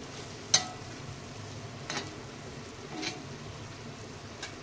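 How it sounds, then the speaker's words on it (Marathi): Chicken liver fry hisses faintly in a pan beneath a low steady sizzle, with a few sparse, soft scrapes and clinks as a spatula stirs it. "पहिले ढवळून घेऊयात व्यवस्थित"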